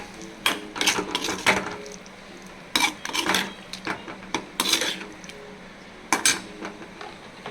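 Mutton brain fry being stirred and tossed in a pan with chili powder, giving irregular metallic scrapes and clinks of a utensil against the pan in short bursts, close and fairly clear with no talking.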